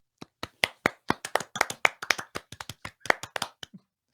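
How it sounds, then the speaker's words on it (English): Scattered hand claps ring out, sharp and uneven, from a small group before trailing off into silence. "Give a round of applause for all that."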